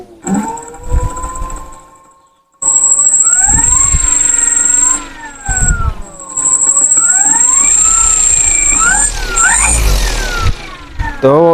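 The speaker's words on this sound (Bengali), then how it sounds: "আমরা একটু থ্রটল দিয়ে দেখি মোটরটি চলে কিনা।" A large radio-controlled model plane motor spins up under throttle, its whine rising and wavering in pitch as it speeds up. The steady, loud tone starts after a brief pause and holds close to the microphone.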